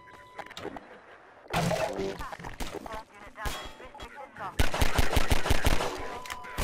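Gunfire in the video game Half-Life 2: a few loud single shots, then a rapid rattling automatic burst near the end, with a voice speaking over parts of it.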